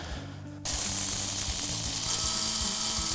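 An electric spice grinder starts abruptly and runs at a loud, steady whir, milling star anise and green cardamom, with a rough, gritty buzz throughout.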